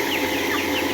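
Broiler chickens cluck and chatter continuously in a busy flock, a dense layer of overlapping calls that stays steady throughout.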